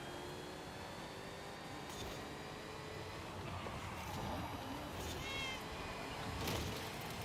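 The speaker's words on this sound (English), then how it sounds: "I made the cat meowing my horn, but my horn is the click in the left stick button." In Forza Horizon 5, a car horn replaced by a cat's meow sounds faintly over constant engine and road roar while driving.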